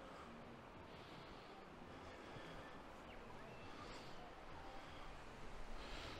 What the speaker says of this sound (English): River's flowing well.